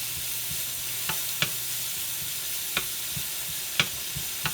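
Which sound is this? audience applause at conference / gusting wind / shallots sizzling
shallots sizzling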